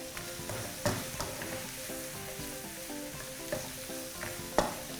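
Shrimp stir-fried with chili and salt in a pan gives a close, steady sizzle, broken by spatula scrapes and clinks at irregular intervals, with no voices.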